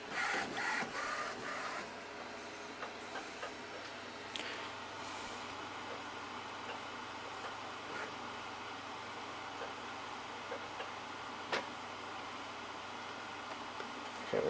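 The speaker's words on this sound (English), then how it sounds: "Printer's powered on." An Epson Stylus C86 inkjet printer from 2004 powering on, with a steady mechanical whirr and hiss, a few brief clicks and clunks as the mechanism initialises, quiet and close with no talk.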